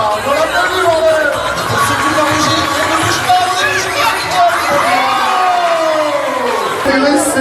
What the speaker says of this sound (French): Ah, on l'applaudit, bordel.